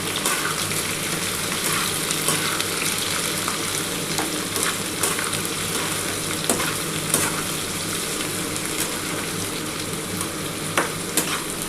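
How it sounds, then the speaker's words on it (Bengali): Potatoes and onions fry in hot oil in a pan for a fish curry, a loud steady sizzle close by, punctuated by repeated spatula scrapes and clinks as the pieces are stirred, with no talking. "এবার আমি কিন্তু আলু আর পেঁয়াজটা একটু ভেজে নিচ্ছি।"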